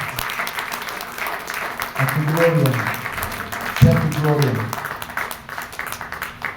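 Church congregation clapping in praise, steady applause from many hands continuing under a voice that speaks and calls out over it.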